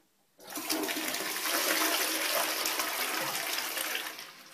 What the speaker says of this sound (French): nous allons pouvoir maintenant tirer la chasse d'eau